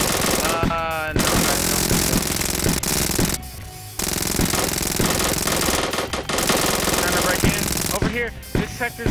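Automatic defence guns fire sustained bursts in the zombie survival game Another Zombie Defence, loud rapid rattling that pauses briefly and resumes, with people talking over the gunfire.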